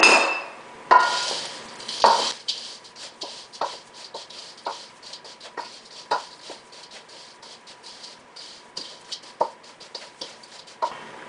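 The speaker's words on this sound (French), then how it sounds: "Je vais venir mélanger avec une cuillère de bois" A wooden spoon stirs a bowl of nut-free granola, giving a run of close, irregular scrapes and light knocks against the bowl, louder at the start and then settling into a steady rhythm with no talking.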